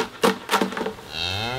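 Cattle on a farm give a close, fairly loud moo, a short series of low pulsing calls building into a sustained lowing tone.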